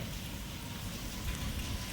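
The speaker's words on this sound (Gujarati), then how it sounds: "અત્યારે વરસાદ ડિમ થઈ ગયો" Steady soft hiss of light rain falling, an even wash of drops with no voices.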